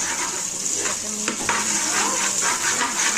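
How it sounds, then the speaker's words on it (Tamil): Onions or aromatics sautéing with salt in a pan for tomato rice, a steady bright sizzle with a few scraping stirs of a spoon against the pan. "போட்டுட்டு உப்பு போட்டு நல்லா வதக்கிக்கோங்க"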